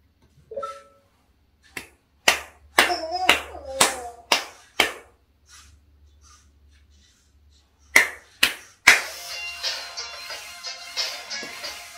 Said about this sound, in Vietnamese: khi mà mình mình vỗ tay thì mình vỗ tay theo cái nhịp